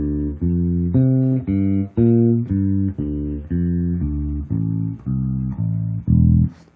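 An electric bass works through a root, fifth and open-string exercise, a steady series of evenly spaced plucked low notes bouncing between pitches; close, clear and alone with no talking.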